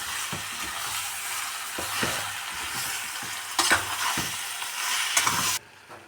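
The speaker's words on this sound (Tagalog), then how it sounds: "Tapos haluin lang guys, oh. Haluin lang natin, oh." Pork pieces frying in a pan for a Filipino dish, stirred with a utensil: steady close sizzling with repeated scraping strokes and clinks, growing louder near the end before cutting off.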